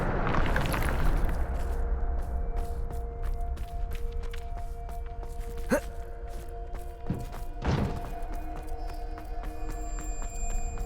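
In Hogwarts Legacy, Bombarda spell blasts land as two heavy, booming impacts a couple of seconds apart, set against steady, layered game ambience.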